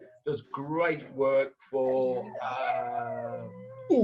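A pair of year-old Labrador dogs howl and whimper in long, wavering, cry-like tones close by, interrupting someone speaking briefly.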